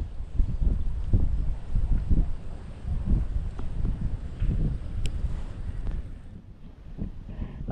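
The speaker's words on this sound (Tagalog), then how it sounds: "Lakas tong hangin." Strong wind roars and gusts against the microphone steadily for several seconds, a low buffeting rumble with no voices.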